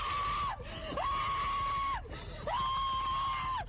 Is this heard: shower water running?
no